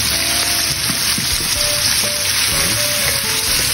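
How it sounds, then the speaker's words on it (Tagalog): Shrimp deep-frying in oil, a dense continuous sizzle and crackle close by, with light clinks and scrapes as the pieces are stirred to keep them from sticking. "Habang piniprito natin mga pare ko ginagalaw natin siya para hindi siya magdikit-dikit"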